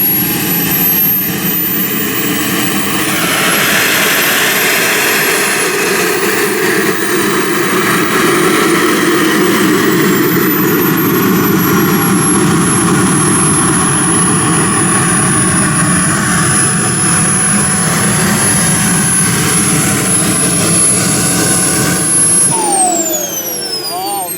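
A Flyfly Hobbies Viper 2.2 RC turbine jet makes a steady, loud whining roar as it comes in to land, with a high turbine whistle that slowly shifts pitch and then winds down near the end. Voices talk faintly underneath.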